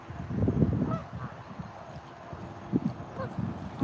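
A goose honks and hisses a few times at close range at a park amid soft rustling and shuffling sounds, with brief nasal calls scattered through.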